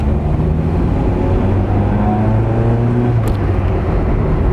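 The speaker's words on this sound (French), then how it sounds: "ça fait un bruit de rallye, donc j'ai bien tout sur l'échappement qui est mort." Renault 11 GTL running with a dead, broken exhaust, a loud, rough, continuous engine drone heard from inside the car, its low tones rising and falling as it revs, with a short click near the end.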